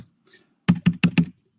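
Four crisp taps on a laptop keyboard in quick, even succession, close and clear in an otherwise quiet room.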